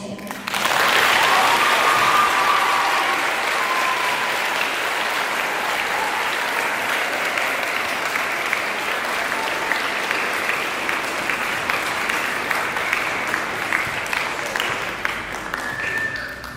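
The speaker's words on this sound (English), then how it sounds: "Please join us in a round of applause for Miss Taylor." A school audience at Meadow Glade Adventist Elementary bursts into sustained applause for Miss Taylor, a dense wash of clapping that stays steady for many seconds and tapers slightly toward the end.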